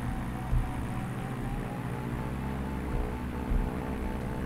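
AS-33me motor glider rolling for takeoff in a flight simulator game, a steady low engine drone and rumble with a couple of soft bumps, continuous and without talk.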